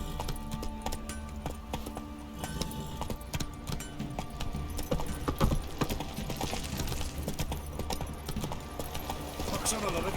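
A horse's hooves clip-clop steadily during riding in The Witcher 3, a continuous rhythmic clatter heard under game sounds and a voice.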